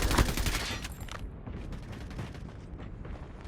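Rapid bursts of gunfire in a video game gun fight, a dense crackling volley at first that thins into scattered shots and rumbling echoes, loud and close.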